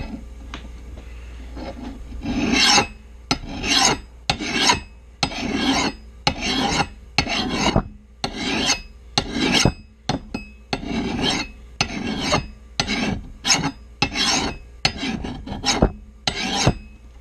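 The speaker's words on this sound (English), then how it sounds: "So now we're going to take our file and our axe gauge and we're going to sharpen her up." A hand file sharpens the edge of a Russian trapper's axe in a steady series of about a dozen loud rasping strokes, each a short scraping burst followed by a brief pause, close up and with no talking.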